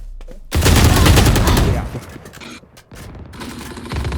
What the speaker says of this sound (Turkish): Abi ya 40 vurdum Killjoy'a ya.